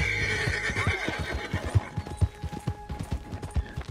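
A horse in the video game Red Dead Redemption 2 lets out a loud, drawn-out whinny near the start, followed by steady clip-clop hoofbeats and faint mechanical clicks.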